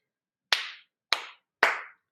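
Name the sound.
hands clapping quietly in a room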